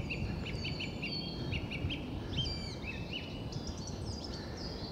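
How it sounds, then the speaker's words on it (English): Song thrush singing in English woodland by a gully in late February, repeated clear whistled phrases from a bird some distance off, over a steady rushing background murmur. "Song thrush singing over there somewhere."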